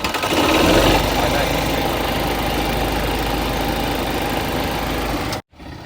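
A small engine runs at a fast, buzzing idle, loud and close with a steady rattling drone, then cuts out suddenly near the end.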